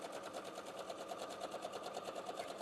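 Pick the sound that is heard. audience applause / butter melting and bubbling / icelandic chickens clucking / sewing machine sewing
sewing machine sewing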